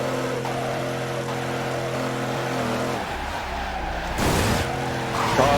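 Car sliding sideways in Midnight Club 3: DUB Edition Remix, engine holding a steady note before tyres break loose into rough skidding scrubs and a burst of noisy tyre squeal near the end.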